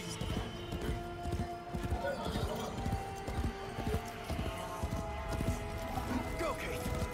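Horse hooves clip-clop in the video game Warframe's Duviri Paradox, a steady rapid trotting rhythm running throughout at moderate loudness under an ambient background.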